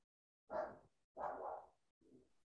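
A dog barks three times somewhere in the background of a home meditation session: two full, loud barks close together, then a softer, shorter one, with no talking.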